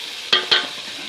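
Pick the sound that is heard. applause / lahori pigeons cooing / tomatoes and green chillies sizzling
tomatoes and green chillies sizzling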